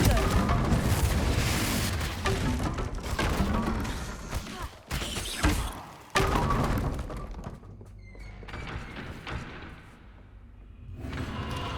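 Repeated Confringo fire-blast spell explosions in the Hogwarts Legacy video game, loud booming thuds and whooshes with brief shattering crashes amid dense game sound and a shouted voice, quieter stretches between blasts.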